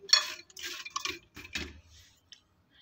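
Raw in-shell peanuts are stirred in a dish partway through microwave roasting. A few close, quiet rattling clicks and shuffles come in short bursts, with no talking.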